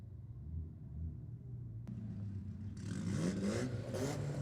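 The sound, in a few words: Volkswagen and Nissan cars drag racing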